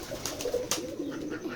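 Pigeon chicks offered for sale in Beti Khola village, Keshabpur, Jessore, give soft, low cooing calls in short repeated bursts, fairly close and moderately quiet, with no voices.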